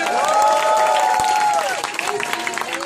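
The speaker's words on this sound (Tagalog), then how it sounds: "Yan lang ba ang palakpak ninyo kay Apply Joseph Lim?" A crowd at a graduation event claps and cheers for Joseph Lim, producing a loud wash of applause beneath a voice on a microphone.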